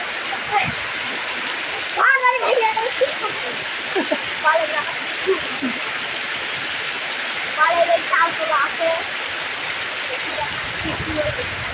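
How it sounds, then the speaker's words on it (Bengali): Heavy morning rain pours steadily in Magura and Sirajganj, Bangladesh, a dense hiss of drops and splashing that runs throughout, with brief bursts of voices talking over it. "আজ সকালে আমাদের এখানে অর্থাৎ মাগুরা তারা সিরাজগঞ্জে প্রচণ্ড বৃষ্টি হচ্ছে"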